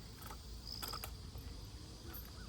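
A toothed cleaning tool scrapes across a metal beehive queen excluder, making faint ratcheting clicks and brief rasping scrapes over low background noise.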